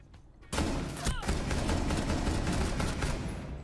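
Burst of semi-automatic gunfire in Rainbow Six Siege, a sudden loud volley of closely spaced shots that starts after a brief quiet moment and keeps rattling steadily to the end.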